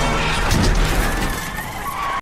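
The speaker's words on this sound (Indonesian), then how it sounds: "Hingga di perjalanan Eva disenggol oleh mobil dan dia kehilangan jejak mobil ambulan yang membawa suaminya." A car skids loudly in an action film, a harsh close tyre screech and roaring engine over dense noise that cuts off abruptly at the end.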